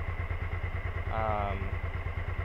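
A 2002 Suzuki SV650 motorcycle engine idles steadily up close, a low rhythmic chugging throughout, with a brief mechanical rattle partway through.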